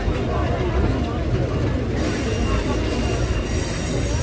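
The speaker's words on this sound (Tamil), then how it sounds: "கரெக்டாக 8:55 அப்போ கிளம்ப ஆரம்பிச்சிச்சு ட்ரெயின்." A Chennai Egmore to Puducherry MEMU train starting to pull away, with loud continuous wheel squeal and rumbling rail noise close by, the squeal shifting partway through as the train moves.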